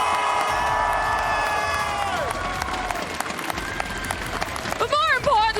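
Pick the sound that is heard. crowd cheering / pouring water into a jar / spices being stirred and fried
crowd cheering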